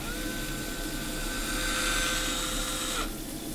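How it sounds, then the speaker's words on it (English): A weird, drill-like rumbling noise heard from inside a shower, steady and continuous for about three seconds before cutting off abruptly, with a droning hum underneath. "Sounds like a power drill, honestly."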